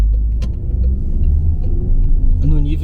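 Steady low road rumble and engine drone heard from inside a moving car, loud and continuous throughout, with faint ticks and a voice briefly rising near the end.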